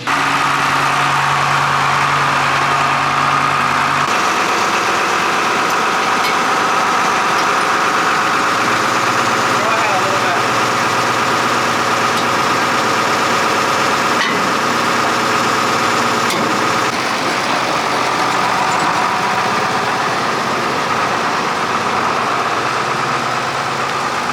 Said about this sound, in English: we just got the feed grinder hooked up to the tractor